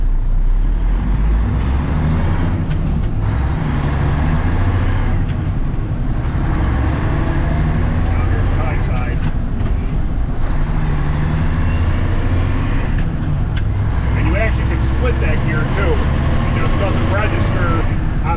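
A 1988 Mack DM dump truck hauling dirt with a Double Overdrive 13-speed transmission rumbles along at close range, its deep diesel drone rising and falling through the gears while the driver talks over the engine the whole time.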